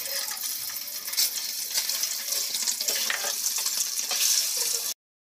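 Eggs frying in hot oil in a kadai for egg biryani, a steady loud hiss and sizzle with faint crackles, heard close up and continuing without pause until it cuts off abruptly.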